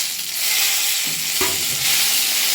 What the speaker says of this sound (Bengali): টমেটোটাও এদের সঙ্গে ছেড়ে দিচ্ছি।